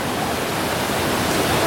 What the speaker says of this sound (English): They love waterfalls in the canyon, and it lived up to expectations